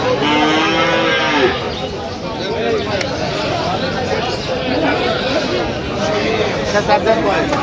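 Several dairy cows moo, with low, drawn-out calls that rise and fall amid a noisy crowd of people talking at the busy Aftabganj cattle market in Dinajpur.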